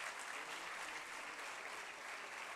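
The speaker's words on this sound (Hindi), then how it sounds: "जोरदार करताली हो" Steady, dense applause from an audience at a National Sports Day 2025 ceremony honouring young chess players, sustained at an even level throughout with no pauses.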